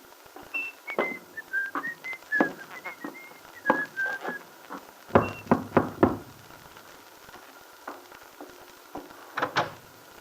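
A man whistles a cheerful tune in short phrases while climbing the shallow steps of a small house at an auto court, with sharp knocking footfalls and bumps between the notes.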